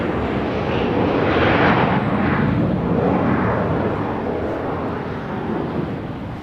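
A Southwest Boeing 737-700 touches down at Dallas Love Field, its engine roar cresting early and then slowly fading as the airliner rolls out, with no talk over it.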